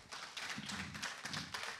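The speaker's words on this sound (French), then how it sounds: "qu'on applaudit bien fort" A studio audience on a French-language television show claps to welcome a guest, with faint, quick, irregular clapping and light taps at a low level, no talk over it.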